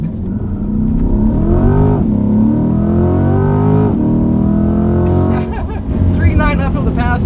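A C8 Corvette launches in automatic mode on an uphill run, its engine note climbing through rising gear sweeps with brief drops at each quick shift, loud and close from inside the cabin, with voices over the end.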